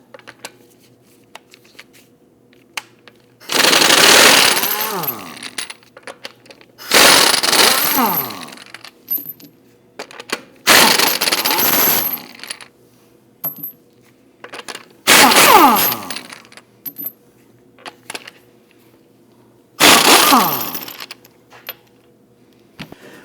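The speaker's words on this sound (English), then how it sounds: "Using a 19mm socket, we want to get it loosened and remove the lug studs." An impact wrench with a 19mm socket loosening wheel lug studs on a 2009-2017 Volvo XC60: five separate loud rattling, hammering bursts of a few seconds each, spaced by quiet pauses, recorded close with no talking.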